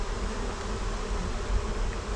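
Honeybees buzz and fan their wings at the front of a hive box during a bee rescue, a dense, continuous drone that stays close and even throughout.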